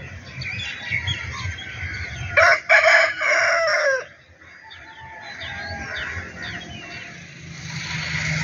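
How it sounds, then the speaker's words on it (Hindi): A rooster crows in a loud burst of about two seconds, standing out over steady outdoor background noise and faint chirping, with no talk. "मुर्गा फिर रहा है।"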